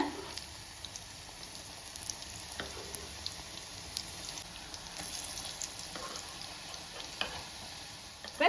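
Egg fry pieces sizzle quietly in a pan as they are turned one by one, with soft spatula taps and scrapes over a low, continuous frying hiss.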